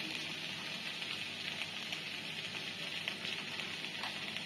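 Banana flower frying in a pan with turmeric powder, giving a steady, soft sizzle and crackle that runs evenly throughout without any talking.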